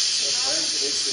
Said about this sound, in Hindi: मैं प्रेशर कुकर में इसमें ढक्कन लगा दूंगा स्टीम एक सीटी